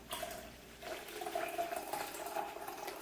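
Water poured into a bubble tea mix of tea and honey, a steady splashing pour that runs for the full three seconds, close by and alone with no voices.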